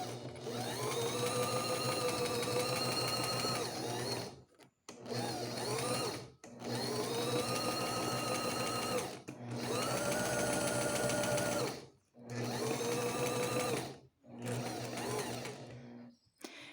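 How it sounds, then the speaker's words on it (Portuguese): Sewing machine stitching fabric along a marked line: steady mechanical whirring in five long runs separated by brief pauses, close and even, with no talking over it. "desce seu pé calcador e desce a agulha no lugar, na linha"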